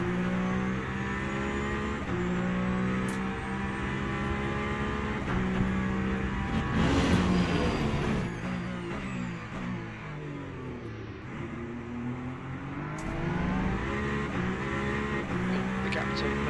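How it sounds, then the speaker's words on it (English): Le Mans Ultimate hypercars race at the Circuit of the Americas, engines droning and revving in a continuous high whine with shifting pitch as cars accelerate and pass, loud and sustained throughout. "Really enjoying the hypercars though."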